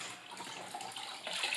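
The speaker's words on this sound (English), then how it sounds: "I've wrung out the sponge, but you want to go ahead and wipe it out." A wrung-out wet sponge is wiped across a plywood subfloor before thin-set goes down for a Schluter Ditra Heat electric floor heating install, giving a steady soft watery swish, close and continuous, with no talking.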